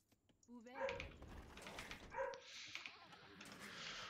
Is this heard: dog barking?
yes